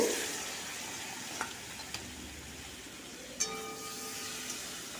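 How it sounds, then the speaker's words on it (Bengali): Poppy seed paste stir-fried in a pan gives a soft, steady sizzling hiss, broken by a few light scrapes and clinks of the spoon against the pan. "প্রথমে পোস্ত মাটা দেবো প্রথমে সবটা দেব না হাফ দেব দিয়ে কষিয়ে নেব"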